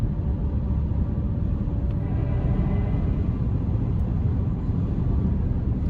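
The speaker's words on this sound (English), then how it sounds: "The propulsion sound could be better" A 2024 Chevy Blazer EV RS AWD under way produces a constant low rumble of road and cabin noise, with a faint, steady electric propulsion whine held through the whole stretch; no one speaks.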